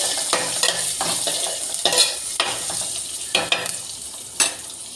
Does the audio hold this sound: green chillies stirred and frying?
yes